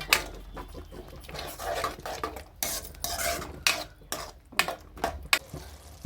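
Tomato rice with salt, turmeric and masala powder is stirred in a metal pan, North Karnataka style: a spoon scrapes and clatters against the pan in uneven bursts over a faint sizzle, close and fairly loud, with no speech.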